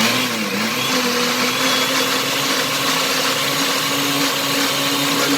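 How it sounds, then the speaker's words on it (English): A blender whirs steadily at close range, puréeing guasacaca with olive oil and salt into a darker green sauce; the motor hum stays loud and even throughout, with no voices over it. "Then we're going to go back to the blender."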